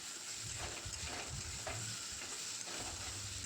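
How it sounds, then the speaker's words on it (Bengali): Water lily stems and crushed fried shrimp are stir-fried in a pan. A close, steady sizzle runs throughout, with repeated scraping and stirring strokes and no talk. "আর একটু শাপলাটা ভাজা হবে, ততক্ষণ নাড়াচাড়া করে নেব।"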